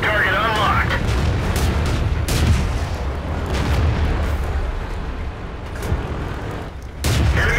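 Tank cannon fire in World of Tanks, loud booming shots with rumbling low end, one near the start and another at the end, over continuous engine rumble and game voice callouts.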